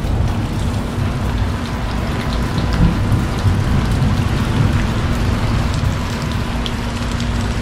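Heavy rain pours steadily outside a house near a very tall tree, a dense, even roar of drops hitting surfaces that fills the whole stretch without pause.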